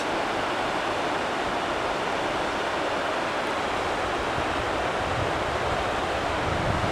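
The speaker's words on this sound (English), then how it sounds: "There's Horse Creek Falls." Horse Creek Falls in the Sierra Nevada gives a steady, broad rushing roar of falling water heard from a distance, constant and unbroken with no voices.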